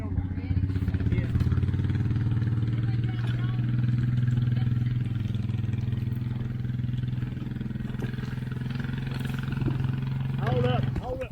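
A Honda 200 three-wheeler ATV, a Big Red, idles and runs steadily nearby with a constant low engine drone throughout, while people talk over it.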